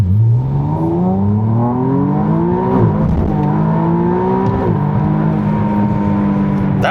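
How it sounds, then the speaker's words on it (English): A McLaren Artura Spider accelerates hard at full throttle in sport mode, its engine note climbing steadily in pitch through two gearshifts, loud and close throughout with no talking. "That was just me flooring it in sport mode, and traction control was just managing the power."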